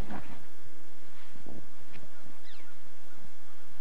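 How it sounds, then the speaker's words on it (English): Geese honk in a series of short, nasal calls outdoors on a snowy winter day, fairly distant and mixed with light background noise, with no one talking. "Look at those birds."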